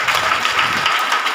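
A church congregation at a Hindi Bible study service claps hands together in a steady, dense burst of applause, loud and continuous, with no voices over it.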